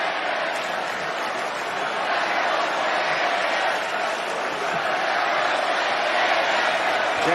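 A capacity crowd at a WWE Raw wrestling event roars in a steady, dense arena din with no pauses, loud and continuous throughout.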